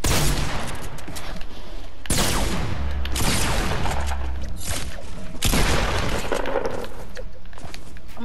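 Rapid shotgun blasts in the video game Fortnite, several loud, close booming shots in quick succession with dense crackling bursts filling the whole stretch.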